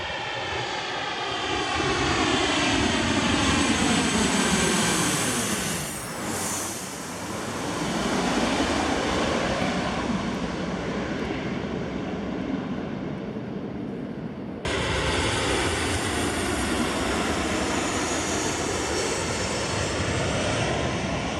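An airplane passes low over the approach near Corfu airport, its engine roar loud and continuous for about twenty seconds, swelling as it nears, sweeping past overhead, then holding a steady rumble.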